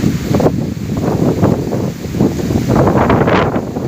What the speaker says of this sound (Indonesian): anginnya sangat kencang sekali